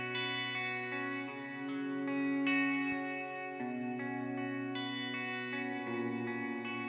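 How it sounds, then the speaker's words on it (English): A sustained, shimmering guitar tone with repeating delay echoes smeared into a wash of reverb, steady and moderately quiet. "Sounds like there might be a delay in there. If it is a delay, then it's washed out through reverb."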